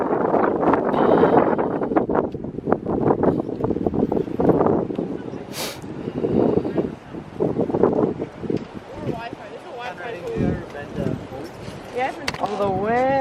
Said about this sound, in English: All the wind.